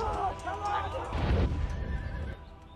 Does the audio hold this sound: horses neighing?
yes